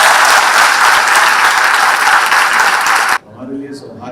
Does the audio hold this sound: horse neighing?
no